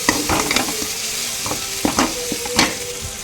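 Lemon rice mixture being stirred in a hot pan, with a spoon scraping and clinking in irregular strokes over a soft sizzle, close and fairly quiet, no voices.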